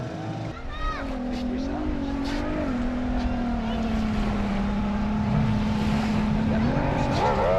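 A racing powerboat engine drones steadily at high speed on water, its pitch holding then rising near the end, with a voice talking over it.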